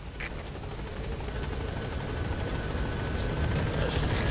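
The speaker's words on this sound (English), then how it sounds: "So we're going to get a helicopter." A helicopter in the video game Metal Gear Solid V: The Phantom Pain approaches, its rotor thumping in a steady rapid beat that grows slightly louder over a few seconds, with a whining engine hum.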